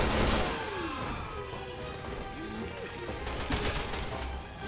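Rapid machine gun fire and scattered gunshots from Resident Evil 6 gameplay, dense and continuous across the whole stretch, with crashes and booms mixed into a loud, busy game soundtrack.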